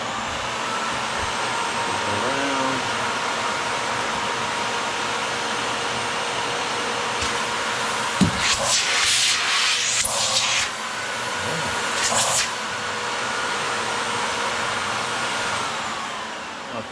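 A Miele canister vacuum cleaner runs with a loud, steady, broadband roar, with a few brief bumps and shifts in the airflow as the hose is handled.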